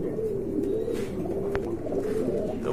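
Pigeons of a once-popular, costly fancy breed, kept in a collection, coo in low repeated throaty calls close by. A short sharp knock breaks in midway.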